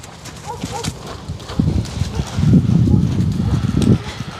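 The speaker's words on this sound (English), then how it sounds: "So this gait is called a trot." A horse trots outdoors, its rhythmic hoofbeats growing louder and closer partway through, over a rough breezy background with a few faint vocal sounds early on.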